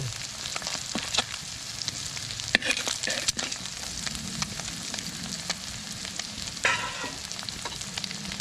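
Garlic and onion sauté in a hot pan for a ginisang patola dish: a continuous sizzle with scattered scraping stir clicks, close by, with no talking.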